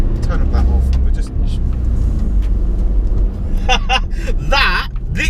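A Range Rover SVR accelerating hard in its sport mode, a loud sustained engine roar heard from inside the cabin, with people talking over it.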